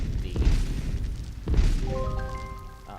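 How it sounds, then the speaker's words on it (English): A short rising chime of stacked tones plays as a video game level-up jingle near the end, following two deep booming rumbles. "means I've just leveled up"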